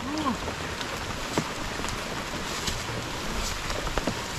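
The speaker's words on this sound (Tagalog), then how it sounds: "Ulan lang yan mga kaboards." Rain falling steadily in a rural farm setting, a constant moderate hiss with scattered drop ticks throughout, no clear voices over it.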